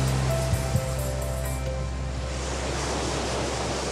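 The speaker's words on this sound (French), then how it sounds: "le littoral est attaqué de plein fouet par la houle et les vagues." Winter swell and surf pounding the Hawaiian coastline at Sunset Beach (Paumalu), heard as a steady, dense roar of breaking waves with no pauses, fairly loud and broad, with faint tonal hums early on and no speech.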